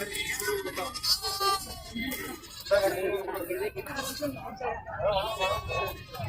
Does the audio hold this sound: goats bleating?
yes